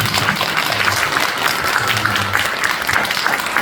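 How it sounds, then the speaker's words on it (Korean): An audience at a church seminar on North Korea mission gives a lecturer a round of applause: dense, continuous clapping from many hands, evenly loud throughout. "우리 이민복 강사님을 위해서 우리 제대로 된 한번 박수"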